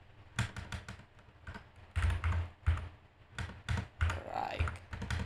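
Typing on a computer keyboard while entering a condition in MATLAB Stateflow: irregular bursts of clattering keystrokes with short pauses between, close and clear, with no talking over them.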